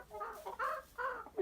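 Hens clucking in a chicken coop during a winter storm, three or four close, distinct clucks and calls in a short burst with quiet gaps between.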